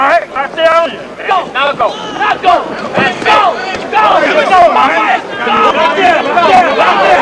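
A Parisian crowd at a Michael Nunn versus Don Curry boxing match roars and cheers as it rises, a dense sustained hubbub of many voices under close commentary.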